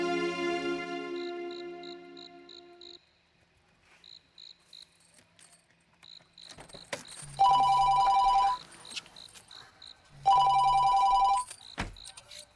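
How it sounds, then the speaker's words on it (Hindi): A telephone rings in two loud electronic bursts, each about a second long, after quieter chirping tones and scattered movement noises. "खुद ही घंटियां बज रही हैं, बंद करो फोन को"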